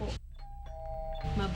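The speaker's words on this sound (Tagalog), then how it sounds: "Tumutunog yung munting batingaw sa may pintuan." A small doorbell chimes at a house door, a clear sustained ring sounding between bursts of nearby talk.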